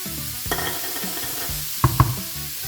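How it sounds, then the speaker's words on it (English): Raw pork sizzles in a pan on high heat as it is stirred with a paprika chili mix, a steady close frying hiss broken by a few louder scraping stirs. "While the pork is still relatively raw, I like to go in with my paprika chili mix."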